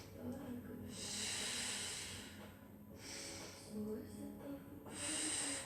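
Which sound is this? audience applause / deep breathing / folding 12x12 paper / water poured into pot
deep breathing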